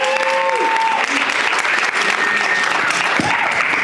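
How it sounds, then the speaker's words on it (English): A crowd gives a round of applause at a public speaking class graduation, with dense, loud clapping throughout and faint voices and whistle-like tones rising above it. "I want you guys to give him a round of applause as he comes up here"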